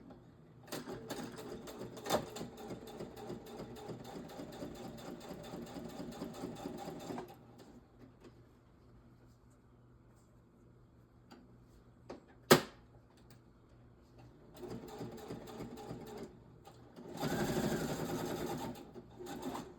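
A sewing machine runs in a long steady rattling stretch, pauses with a sharp click in the quiet gap, then starts up again in shorter bursts.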